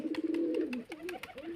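Pigeons cooing close by, a low throaty warble in a couple of rolling phrases, with faint rustling behind.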